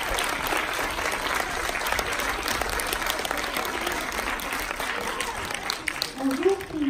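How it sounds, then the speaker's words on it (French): Audience applause at a film festival greeting director Dorothée Vandenberg, steady dense clapping filling the room for several seconds before a voice begins to speak near the end. "Je propose que vous l'applaudissiez bien fort"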